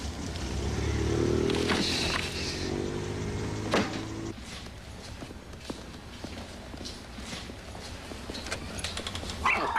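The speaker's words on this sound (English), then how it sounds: "Nice dog." A dog gives a few short barks outdoors, mixed with street noise, clip-clopping hooves and passing traffic; the barks are moderately loud against the busy background.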